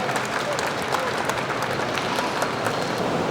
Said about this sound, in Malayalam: please give Sajid A big clap